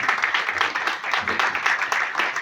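Audience at an outdoor stage event for poets with disabilities claps in a steady, moderately loud patter throughout, with no voices over it.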